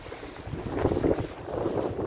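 A Sun Odyssey 35 sailboat motoring under engine on calm sea near Gruissan, with a low rumbling drone mixed with wind buffeting the microphone and soft water swish, moderately loud and continuous.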